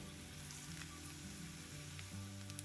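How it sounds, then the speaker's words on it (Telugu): Dry red chillies and cumin seeds frying in hot oil, a soft continuous sizzle with faint crackles, quiet and close. "ఎండుమిరపకాయలు వేగుతున్నప్పుడు దీనిలో 1 స్పూను జీలకర్ర వేసుకుందాం."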